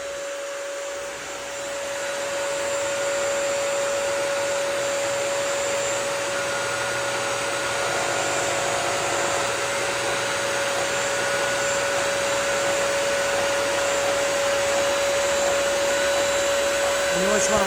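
Bissell Crosswave Pet Pro wet floor cleaner sucking spilled milk off a hard floor, a loud, steady motor drone with a high whine that starts after a short quieter moment and runs on without interruption.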